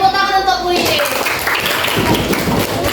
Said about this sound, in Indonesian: Oke, tepuk tangan untuk puisi.